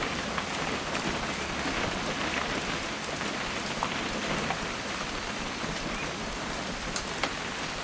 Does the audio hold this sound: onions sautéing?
no